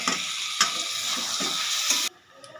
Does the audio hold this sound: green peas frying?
yes